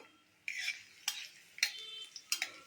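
Crushed garlic cooking in a little heated oil in a pan, with four quiet, separate scraping strokes as it is stirred and a faint sizzle underneath, no voices.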